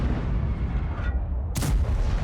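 A tank's main gun fires in the online game World of Tanks: one loud, sharp boom late in the moment, rising out of a low rumbling battle ambience.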